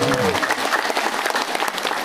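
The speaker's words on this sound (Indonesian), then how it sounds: "Kita kasih tepuk tangan dulu" Crowd at an outdoor political rally breaking into applause, loud scattered clapping with a voice briefly audible at the start before the clapping carries on alone.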